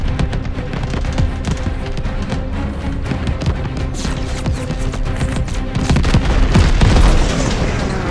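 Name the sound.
anti-aircraft tracer fire in video game Call of Duty Vanguard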